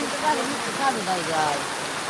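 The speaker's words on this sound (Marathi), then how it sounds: "जबरदस्त पाऊस ढग ढगफुटीचं दृश्य पाऊस आमच्या गावामध्ये सध्या सुरू आहे" Heavy cloudburst-like rain pours in a steady, dense hiss in a village, with a faint voice barely audible underneath.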